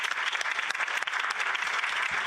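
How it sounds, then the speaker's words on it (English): A conference audience claps steadily in a dense, continuous burst of applause, fairly soft and even throughout. "with a warm applause, to thank our Master of Ceremony of today, Valentina."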